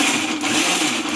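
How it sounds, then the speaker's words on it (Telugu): A kitchen mixer grinder whirs as it blends chopped tomatoes in its lidded jar, giving a steady, close motor drone over a short stretch. "మిక్సీ జారు మూత పెట్టుకొని పట్టుకోవాలి."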